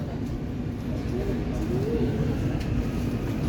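KRL commuter train, a new Chinese-built KCI SFC120-V, pulling away from Jatinegara station: a steady low rumble and hum of the moving train with a faint rising motor whine, heard from inside the car, continuous and fairly loud.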